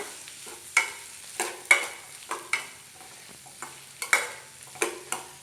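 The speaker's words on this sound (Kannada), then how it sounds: "ಟೊಮೊಟೊ ಸಾಂಬಾರಿಗೆ ಇದನ್ನು ಫ್ರೈ ಮಾಡ್ಕೊಳ್ಳಿ ಚೆನ್ನಾಗಿ ಫ್ರೈ ಮಾಡ್ಕೊಬೇಕು" Tomatoes for tomato sambar fry in a pan, heard as a soft low sizzle broken by a series of sharp, regular stirring scrapes and taps, about eight in a few seconds, with no talking.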